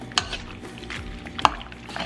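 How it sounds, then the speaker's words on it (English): A whisked sauce is stirred into shrimp in a bowl, giving soft wet squishing and a couple of sharp utensil clinks against the bowl, quiet and close. "Add it to your shrimp. We are going to mix that."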